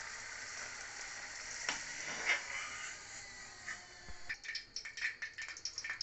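Luchi, puffed Bengali fried bread, frying in oil that has cooled on a low gas flame, giving a steady moderate sizzle with a few sharper crackles and light scraping ticks toward the end, no talking.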